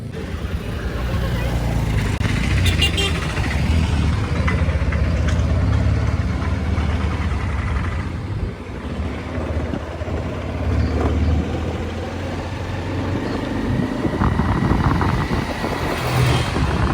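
Motorbike engine idling with a steady low rumble, running up close and then cutting out as the bike is stopped, with voices talking over it.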